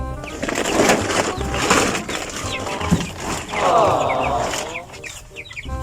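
Chickens cluck and chirp close by in a busy farmyard, with scattered bird calls and some background voices throughout.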